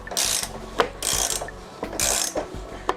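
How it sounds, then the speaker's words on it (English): A ratchet turning bicycle seat bolts gives rapid pawl clicking in three bursts of about a second each, close and crisp, with short pauses and a sharp knock between them. "we're unscrewing them the wrong way"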